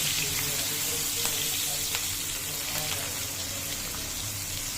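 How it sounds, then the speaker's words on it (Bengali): Flat beans frying in a pan for a restaurant-style bean stir-fry, a dense, steady sizzle that continues throughout with occasional faint clinks and scrapes from stirring. "এখন এটাকে খুব ভালো করে ভেজে নেব"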